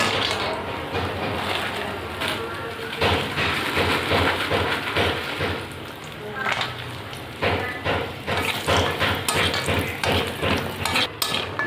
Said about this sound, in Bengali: এবার আমি বড়ি ভেজে নেব